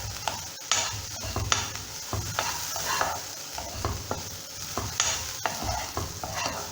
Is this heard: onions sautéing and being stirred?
yes